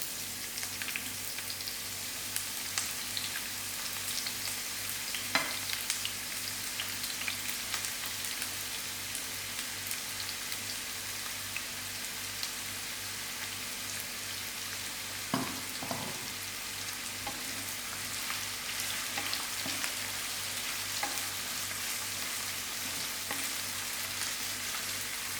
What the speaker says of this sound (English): My oil is heated up, and I'm just going to decrease the flame and put in my onions to fry.